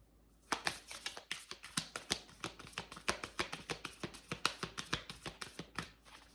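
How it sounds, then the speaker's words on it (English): Tarot cards are shuffled by hand in a quick, steady run of soft papery slaps and riffles, close and quiet with no talking. "Maybe I need to shuffle like this."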